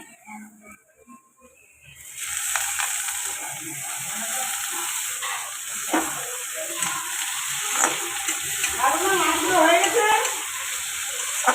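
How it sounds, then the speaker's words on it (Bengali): Onions frying with shrimp in a pan produce a continuous sizzle that starts abruptly after a quiet opening, with crackling bursts that grow busier toward the end. "পেঁয়াজগুলো ভাজতে দিয়ে দিয়েছি এবার চিংড়ি মাছটা দিয়ে দেবো"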